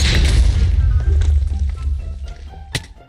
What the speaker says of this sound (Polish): Sneak to let out explosive poop